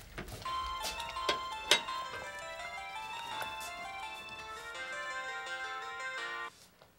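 A phone rings with a bright, repeating electronic melody, loud and close, with a few knocks and clatters underneath before it cuts off.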